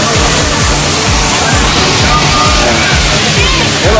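The waterfall at Gan HaShlosha, Israel, fills the scene with a loud, steady rushing roar of falling water, close by, while people talk over it.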